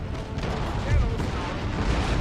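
Cannon fire in Empire: Total War during a siege, a deep low boom rolling under dense battle noise and crowd din, with a heavier thump near the middle of the short stretch.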